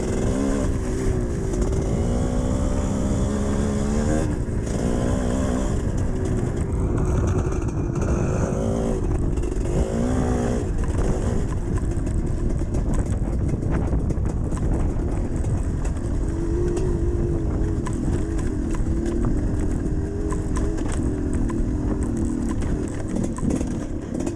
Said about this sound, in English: I'm going to leave you now with some GoPro footage from today riding the GPX at Cowm Quarry